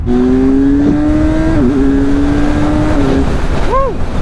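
A Kawasaki Ninja 1000 on a test ride pulls hard, its engine note climbing steadily and loud against rushing wind, then briefly dipping and rising again as a rider talks.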